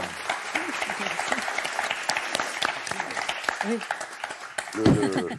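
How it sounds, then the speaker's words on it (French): Studio audience on the French game show Motus claps for two contestants, a lively, steady patter of hands close by, with a voice briefly speaking over it and a short cheer near the end. "on applaudit Christine et Gilles, s'il vous plaît"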